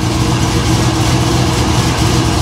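A steady, loud engine rumble drones on without change, low and continuous, from a 1955 Chevrolet Nomad gasser idling close by, its engine running rich.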